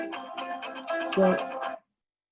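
A mobile phone ringtone plays nearby, a short melodic electronic tune lasting under two seconds before cutting off abruptly into silence.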